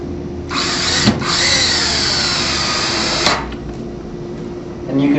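A power drill drives a countersinking screw into a bullnose Z-frame shutter frame, giving a loud sustained whir close by with brief bumps as the screw seats.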